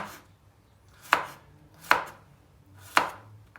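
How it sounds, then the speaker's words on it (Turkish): A knife chops vegetable into small cubes on a cutting board, three crisp separate chops at an unhurried pace, close and clear over a quiet background. "Dörde böldükten sonra da böyle küp küp hepsini doğuracağım."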